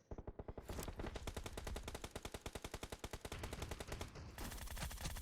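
Rapid automatic gunfire from the video game PUBG Mobile, a loud, close, continuous burst of evenly spaced shots lasting several seconds before stopping abruptly, with no talking over it.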